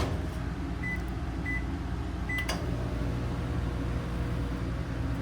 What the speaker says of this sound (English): you're going to have your microwave that also has a convection oven capabilities